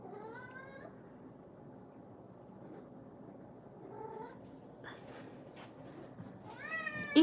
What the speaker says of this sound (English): you would think I never feed my cats the way that they're just like here